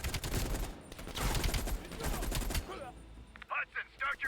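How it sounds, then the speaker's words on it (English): Heavy machine gun firing from a ridge in the Black Ops Cold War game campaign, a loud dense stream of rapid shots that gives way to a few separate bursts, with voices in the mix. "Heavy MG on the ridge."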